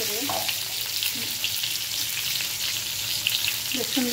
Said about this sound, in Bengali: তেল গরম করে তেলের মধ্যে হালকা একটু হলুদ দিয়ে পটলগুলো ভেজে নিচ্ছি